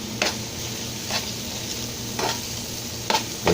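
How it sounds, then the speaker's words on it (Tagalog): Onion and garlic sautéing in a pan for papaitan, with a steady broad sizzle and a few soft scrapes of a utensil stirring at intervals. "Palutuin yung sibuyas sa bawang"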